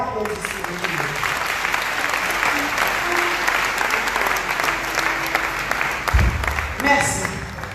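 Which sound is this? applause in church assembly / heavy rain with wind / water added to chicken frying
applause in church assembly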